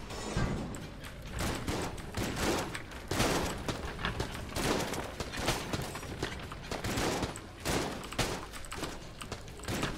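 Rapid, continuous minigun bursts from a cart in Enter the Gungeon, a steady rattling barrage of shots running dense and loud throughout, with brief pulsing gaps.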